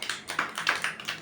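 Students in a group clap along in a classroom, producing soft, evenly spaced hand claps in a quick, repeating beat with no voices over them.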